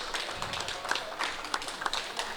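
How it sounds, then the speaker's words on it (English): Spectators at an 8-ball pool match giving a light golf clap: a sparse, soft patter of scattered hand claps at moderate distance, with no talk over it. "Even a golf clap for him."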